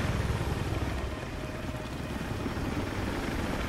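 A helicopter in Battlefield 4 produces a loud, steady rotor and engine roar, broadband and continuous throughout, with faint chopping texture and no clear talk.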